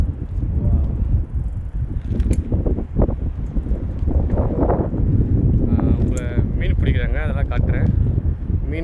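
Strong wind at a beach in Singapore buffets the microphone in a continuous, rumbling roar during a bicycle ride, with someone speaking over it and faint mechanical clicks from the bike.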